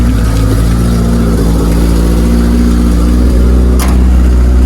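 A Suzuki Samurai engine runs steadily just after a hard start, a loud, continuous near idle with a slight rough throb and a brief sharp click near the end.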